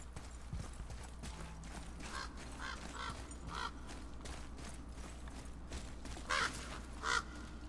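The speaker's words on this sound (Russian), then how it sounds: "Так, это обычные вороны." Crows cawing in the video game God of War, a few harsh caws scattered over a quiet forest ambience, with louder calls near the end.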